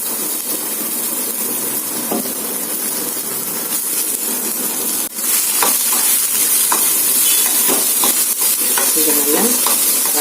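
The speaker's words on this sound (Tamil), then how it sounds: "இப்போ நறுக்கி வச்ச புடலங்காயை போடுறேன்" Chopped snake gourd hits a pan of sautéed onions and fries with a loud, continuous sizzle and hiss, broken by scraping stirs and occasional clinks, with no talking.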